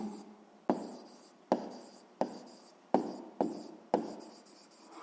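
A pen or pencil writes an answer on paper for a sixth-grade maths exercise, six distinct scratching strokes that each start sharply and fade, spaced about a second apart, close and quiet.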